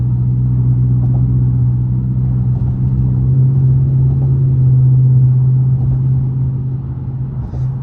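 A Dodge Charger RT with aftermarket exhaust tips cruises on a highway at around 50 to 60 mph, making a loud, steady, low engine and road drone that fills the whole stretch.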